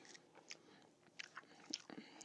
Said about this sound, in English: I figured you guys could probably hear me chewing really badly